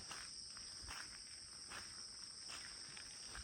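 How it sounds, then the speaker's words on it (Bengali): Crickets chirp all around a guest house bungalow in Kulaura, Moulvibazar, at ten in the morning, a faint continuous high trill with soft intermittent patter beneath it and no talk. "চারদিকে শুধু ঝিঝি পোকা ডাকছে"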